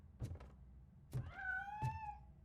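A cat meows in the RoboCop: Rogue City video game, a drawn-out, rising and falling meow near the middle, framed by a few dull thunks, fairly quiet and with no talk.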